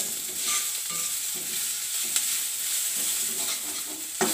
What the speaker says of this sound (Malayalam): ഇങ്ങനെ വഴണ്ടുകൊണ്ടിരിക്കുകയാണ് ഇഞ്ചി പച്ചമുളകും ഇഞ്ചിയും വെളുത്തുള്ളിയും കൂടി ഇട്ടത് കൊണ്ടൊരു നല്ല കുത്തൽ വരുന്നുണ്ട്